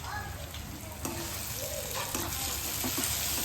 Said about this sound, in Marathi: हे बघा कांदा मस्त फ्राय करत ठेवलेला आहे.